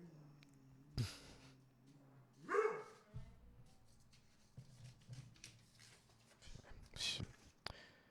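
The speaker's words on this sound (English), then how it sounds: "shut that dog up!" A dog barks indoors in a few sharp, separate yaps spread across several seconds, fairly close and loud, while someone talks over and between the barks.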